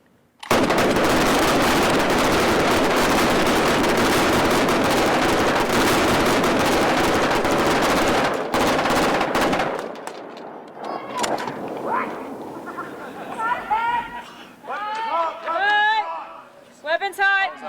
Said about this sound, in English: she wound up getting quite an amazing shootout